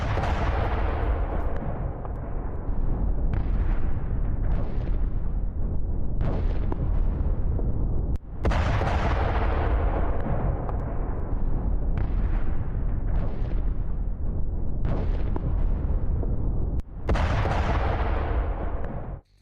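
Explosions from an attack on a Russian military base in Bryansk, heavy continuous roaring blasts with repeated sharp booming onsets over about twenty seconds, loud and dense throughout.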